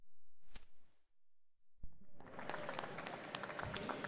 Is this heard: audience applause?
yes